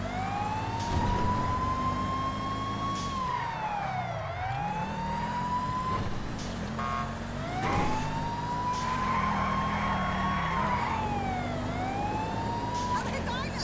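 Police sirens from the video game GTA 5 wail in rising and falling sweeps across the whole stretch, loud and continuous over a rumble of traffic and engine noise, with faint speech mixed underneath.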